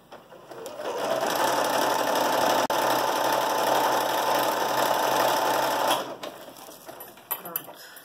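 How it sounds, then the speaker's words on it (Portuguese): A sewing machine runs a zigzag stitch around a fabric card holder, a loud continuous mechanical whirr for about five seconds that stops abruptly, followed by a few faint clicks and handling sounds. "levar a máquina e passar toda a volta. Ponto zigue-zague"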